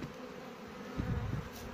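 Honey bees buzzing around a hive frame as they are brushed and shaken off with a feather while splitting colonies at an apiary, a steady close hum with a louder surge near the end.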